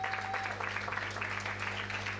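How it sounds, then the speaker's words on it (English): Audience applause for a speaker panel at a wisdom summit session in Africa, steady clapping that fills the whole stretch at moderate level without a break. "Another round of applause to this incredible panel."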